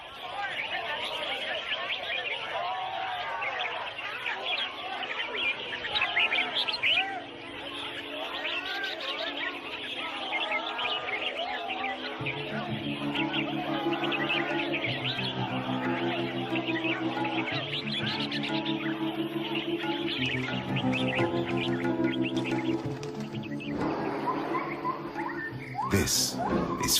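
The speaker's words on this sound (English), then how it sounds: "people have gathered to sell exotic birds, illegally captured in the rainforest, sold for the highest bid, and here participating in a bird singing competition" Captured exotic rainforest birds sing at a bird singing competition in Thailand, a dense chorus of chirps, trills and whistles running continuously, mixed with a crowd's murmur and other bird calls throughout.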